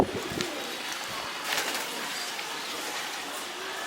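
Small Andra pigeons, a Kulsira and Lalsira cross, give low, faint coos against a steady hiss of background noise, with a brief flutter near the start and a few soft calls midway.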